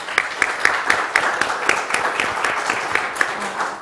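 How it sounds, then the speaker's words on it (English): Audience applause after a talk at an education event, a steady wash of many hands clapping at moderate level with a few sharper claps standing out across the whole stretch, no voices on top. "Let's give a round of applause."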